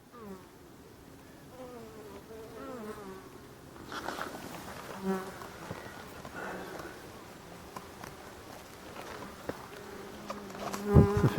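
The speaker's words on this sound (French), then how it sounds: "J'entends un frelon." Buzzing of a hornet and insects around wild native black bees in a Breton marsh, a steady drone of wings with a louder pass near the end, under faint outdoor background.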